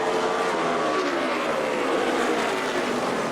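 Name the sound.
NASCAR race cars racing on track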